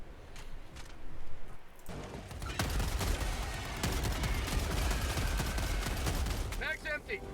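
An incendiary shotgun fires repeatedly in the video game Helldivers 2, with dense bursts of blasts and crackling fire over continuous battle noise, loud and close.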